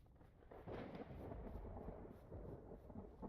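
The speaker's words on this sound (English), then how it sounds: "Just enjoy the thunderstorm." Thunderstorm in the video game Vintage Story, a quiet low rolling rumble of thunder that swells after a moment and lingers with soft rain-like texture, no speech.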